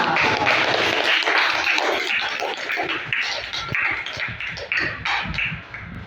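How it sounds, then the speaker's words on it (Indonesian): Classroom students applauding together in a lively, continuous burst of clapping that thins out slightly toward the end, mixed with scattered voices. "Oke, tepuk tangan."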